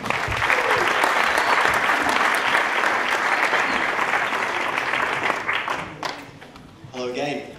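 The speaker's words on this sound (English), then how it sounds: "Give a round of applause." Full-room audience applause at a local radio awards ceremony, a strong, even roar of clapping lasting about six seconds, then thinning out as a presenter starts speaking at the end.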